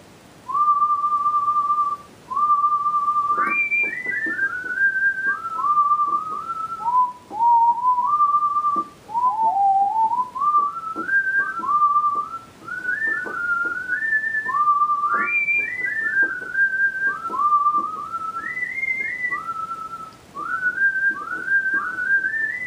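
A synthesizer mimics a human whistle, playing a tune: a clear, loud, sliding melody of short phrases with quick upward swoops and brief gaps, heard alone without talk.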